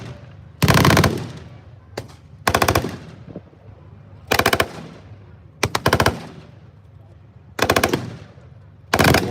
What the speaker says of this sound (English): We've got a Panzer III just fired at the troops.